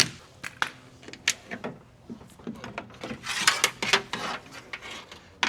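A ratchet clicks in short, irregular bursts while undoing the bolts of a Nissan 370Z door lock actuator, close and crisp, with metallic rattles between strokes.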